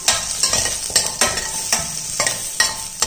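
Five cut garlic cloves lightly sautéed in a pan, loud close sizzle broken by a rhythmic run of sharp stirring scrapes roughly every half second.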